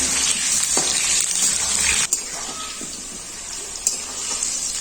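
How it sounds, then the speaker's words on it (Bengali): Chopped potatoes fry lightly in a pan with salt and whole cardamom, giving a steady close sizzle broken by a few sharp scrapes and knocks as they are stirred. "আলুগুলোকে আমি হালকা করে ভেজে নিই"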